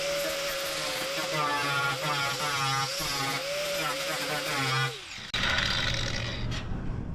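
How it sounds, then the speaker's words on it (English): Flap disc grinder working down a rusty Willys Jeep pickup fender, a loud steady high whine with wavering pitch for about five seconds, then a brief drop before harsh grinding noise resumes. "the first thing I want to try is to grind all this down and see how it looks"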